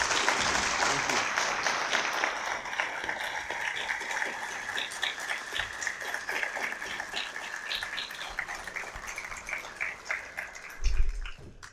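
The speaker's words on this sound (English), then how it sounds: "So everyone, a round of applause for Lars Gule." A debate audience gives a round of applause, crowded clapping with scattered cheers and voices that starts strong and slowly thins over about eleven seconds, ending with a brief thump.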